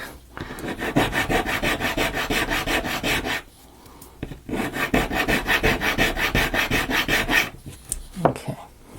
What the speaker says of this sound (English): I will sand the sides a little bit.